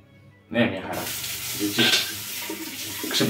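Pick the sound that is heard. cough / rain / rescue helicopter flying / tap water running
tap water running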